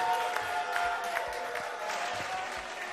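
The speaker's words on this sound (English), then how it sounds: "let's put our hands together" An audience at a comedy show claps together in a steady, dense wash of applause with some crowd noise mixed in, continuous and fairly loud throughout.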